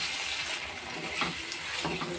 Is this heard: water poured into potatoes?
yes